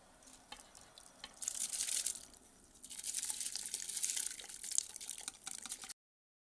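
Three kilograms of rice tipped into a pot of boiling, salted water with white oil for chicken biryani: a bright rushing splash and hiss in two bursts over a steady bubbling simmer, close by, with no talk.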